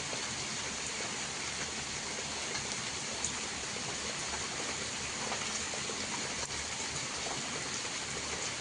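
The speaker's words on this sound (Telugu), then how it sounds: "కానీ తగ్గకుండా ఆగే పడిందో చూడండి ఎంతలా పడిందో వర్షం" Heavy rain pours down steadily in Rajasthan, a dense, even wash of hiss with no breaks, no voices and no distinct drops standing out.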